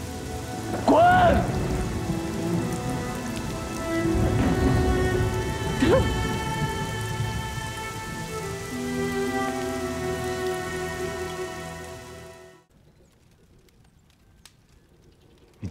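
Heavy rain pours down in an ancient palace courtyard, a thick continuous wash with voices crying out over it. The rain cuts off abruptly into near silence for the final few seconds.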